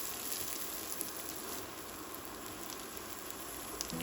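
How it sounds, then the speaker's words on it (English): Minced garlic and onion sizzle in hot oil in a pan during a seafood stir-fry: a faint, even crackling hiss that runs steadily throughout, with no talk. "Add the minced garlic and let it sizzle for about 30 seconds until golden."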